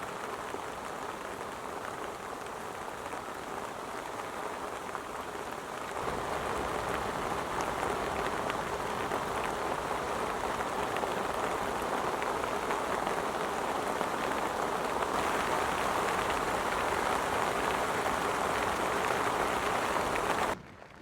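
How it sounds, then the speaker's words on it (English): Steady rain pours down at a carp fishing lake in the autumn, a dense, even hiss of drops on water and surfaces that holds constant throughout and grows slightly louder partway in, with no voices. "Hopefully when that rain stops around about 11"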